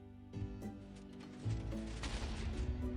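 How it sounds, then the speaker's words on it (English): Explosions in Minecraft shake a block farm, heard as a crackling, rumbling burst with a louder surge midway that keeps churning with debris-like clatter to the end. "Let it blow up once."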